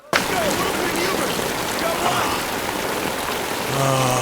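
Steady heavy rain pours down in a TV war drama set in the Pacific, a dense, unbroken hiss of drops on surfaces with faint low rumbles and brief voices beneath.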